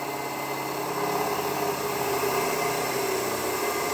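A DC motor in a laboratory runs steadily after speeding up, giving a constant mid-pitched whirring hum with a faint tonal whine, moderately quiet and unbroken for the whole stretch, with no voices.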